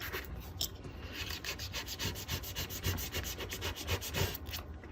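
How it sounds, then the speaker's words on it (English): Glitter vinyl being burnished through transfer tape, a close, soft rhythmic rubbing and scraping with quick repeated back-and-forth strokes, no talking. "I'm going to burnish both sides."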